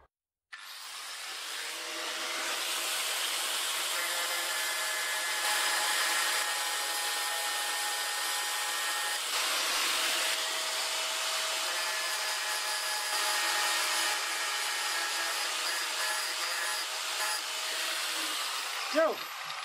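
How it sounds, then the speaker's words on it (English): An angle grinder grinding chrome off an old bicycle frame, a loud steady high whine starting after a brief silence and running nearly twenty seconds with slight load changes before cutting off. "Now I'm going to grind away some of this chrome, otherwise I cannot weld that stuff."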